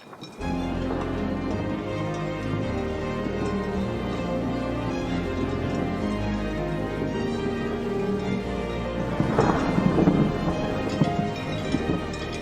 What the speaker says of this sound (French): L'orage est arrivé et maintenant il pleut.